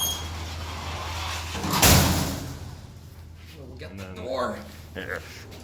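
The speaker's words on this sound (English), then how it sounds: "Really heavy doors." A heavy sliding security door on a rusty 1960s freight elevator rumbles shut with a loud thud, followed by quieter rattling and scraping as people talk nearby.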